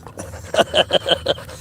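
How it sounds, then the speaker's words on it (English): A dog pants up close in quick rhythmic breaths, about six short puffs in a second and a half, with no talking. "That's a cool dog."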